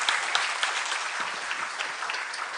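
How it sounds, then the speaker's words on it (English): A live congress audience claps steadily through the whole stretch, dense and sustained with a few sharper individual claps standing out, close and fairly loud. "let's give a big round of applause for Tories again"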